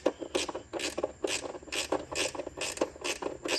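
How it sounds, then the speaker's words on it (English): Ratcheting wrench snugging down bolts on an LT6 intake manifold cover, clicking in quick repeated bursts of several strokes each, close and clear, with no talking. "I'm going to use the ratcheting wrench on because that's not much room away."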